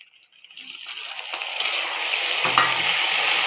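Onions sautéing in a pan for a dried fish curry, a hissing sizzle that builds from quiet to loud and steady, with stirring scrapes mixed in.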